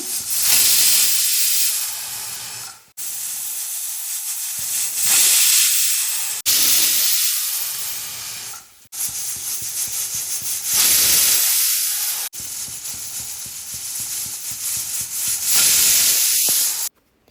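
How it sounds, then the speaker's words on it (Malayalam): A pressure cooker cooking tapioca hisses loudly and steadily, its steam bursts rising and falling in long repeated surges separated by brief dips. "അപ്പോൾ കുക്കറിൻ്റെ വിസിലൊക്കെ വന്നപ്പോൾ ഞാൻ സ്റ്റൗ ഒന്ന് ഓഫ് ചെയ്ത്"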